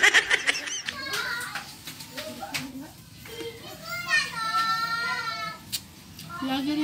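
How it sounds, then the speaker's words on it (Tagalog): Children playing noisily outside, a steady mix of distant shouts, high squeals and chatter, with a child's whimpering cry near the start. "may mga naglalarang mga bata sa labas. Ang ingay nila."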